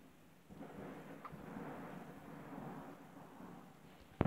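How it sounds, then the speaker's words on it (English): Thunder from a lightning strike in the Minecraft video game, a low rumbling roll that swells and fades over a few seconds, ending in a brief sharp crackle. "That lightning there."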